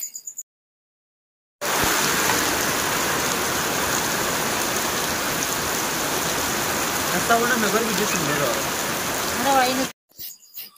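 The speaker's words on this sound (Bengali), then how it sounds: "এই যে দেখুন কতটা জোরে বৃষ্টি চলতেছে।" Heavy rain pours down in a loud, steady roar for several seconds, with a faint voice murmuring underneath near the end.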